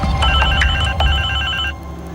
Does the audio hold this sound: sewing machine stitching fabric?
no